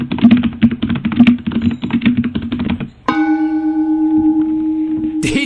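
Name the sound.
typing on a computer keyboard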